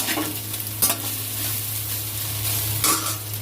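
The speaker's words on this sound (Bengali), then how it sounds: "সয়াবিনটা ভাজা হচ্ছে" Soybean chunks sizzle steadily in a large wok, with a couple of sharp scrapes and clanks as a spatula stirs them.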